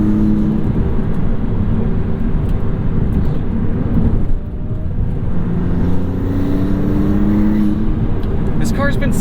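A 2022 Maserati MC20 supercar in sport mode drives on a road, its engine droning steadily and loudly close to the cabin throughout, easing briefly midway before pulling on again, with someone talking over it.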